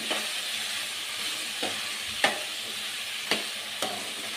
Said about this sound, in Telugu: ఒకసారి కర్రీ మొత్తాన్ని మిక్స్ చేసుకుందాం.